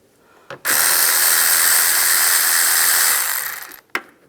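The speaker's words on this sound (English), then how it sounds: "I'm going to loosen up these worm clamps. Use a 10mm socket." Ratchet with a 10mm socket loosening worm clamps on the intake of a 1996-2002 Toyota 4Runner: one loud, close, continuous rasping burst of about three seconds, framed by brief clicks before and after.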